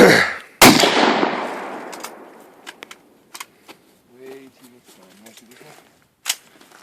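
AR-15 rifle fired outdoors, one loud close crack with a long decaying echo, followed by faint clicks and handling sounds as people talk quietly.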